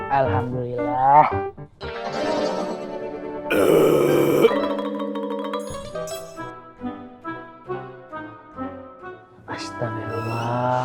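A loud, guttural burp after a meal, broken into several grunting bursts mixed with voices and background music from an Indonesian TV drama scene.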